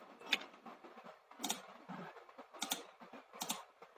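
Typing on a computer keyboard to set up a K-1000C programmable LED controller, a quiet close run of irregular key clicks and taps with no voice.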